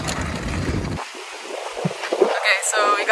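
Gusty wind buffets the microphone in bursts in Bermuda, cutting in and out, with some rustling and brief sounds in between.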